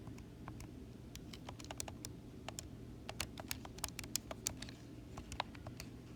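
Rapid keystrokes on a calculator or computer keyboard while entering a compound interest calculation, in irregular bursts of light taps over a steady low hum, with no talking.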